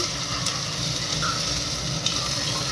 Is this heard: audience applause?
no